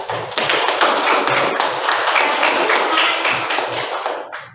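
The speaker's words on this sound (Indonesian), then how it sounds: "tepuk tangan untuk kelompok dua yang berani maju duluan" A classroom claps for a student group, a dense, continuous round of hand claps that holds at a steady level for several seconds before stopping abruptly.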